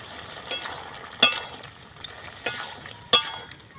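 Vegetables cook in a pan, with a low background sizzle broken by four sharp clinks and scrapes of a spatula or spoon against the pan; no one speaks.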